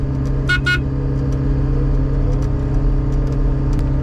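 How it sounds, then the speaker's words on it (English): A skid steer loader runs nearby with a loud, steady engine rumble and a constant low drone, with a couple of brief high squeaks early on. "These calves ain't used to the skid steer, so they're gonna get spooked pretty easily."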